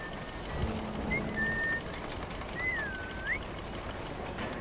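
A few thin, tonal whistles, one short and one longer rising and falling, over low background noise in Assassin's Creed Syndicate.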